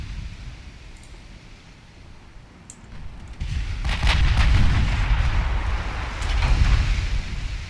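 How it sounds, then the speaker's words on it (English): Naval artillery in the warship game Ultimate Admiral Dreadnoughts, with repeated heavy gun blasts and deep rumbling booms that build from a distant hum into loud, overlapping volleys in the second half. "Keep shooting at the battleship."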